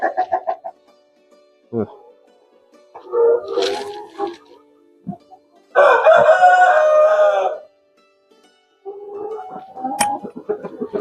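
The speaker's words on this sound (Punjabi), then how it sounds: "ਉਹ ਮੁਰਗਾ ਦੇਖੋ ਮੁਰਗਾ ਇਹਦੇ ਕੋਲ ਰਹੂਗਾ" A rooster crows on a farm, one long loud call in the middle, with shorter clucks and calls before and after and a voice talking at times.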